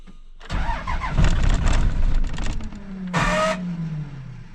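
An engine called the Silver Bullet cranks in the cold, catches, and roars to life loud and close, then settles into a rough idle with a short burst of hiss partway through.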